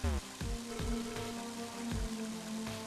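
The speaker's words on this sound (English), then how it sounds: "That's cold rain." Cold rain patters steadily in the game Mother 3, a soft continuous wash under a looping musical tone with periodic low thumps.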